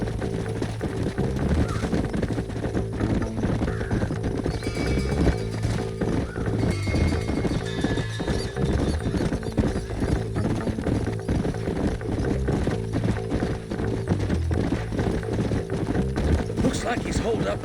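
Several horses gallop in the Western game Red Dead Redemption, hooves drumming steadily and loud throughout, with neighs and crows mixed in and voices talking over the ride.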